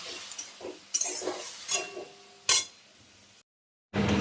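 Crab sautéed and stirred with turmeric, salt, chili and a little water, giving scattered close spatula clinks and stirring scrapes over light sizzling, then a brief silence before a burst of frying noise.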